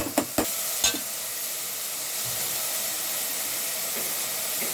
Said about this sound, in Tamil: இது வந்து வெங்காயம், பச்சை மிளகா, பூண்டு எல்லாம் போட்டு வதக்கணும்.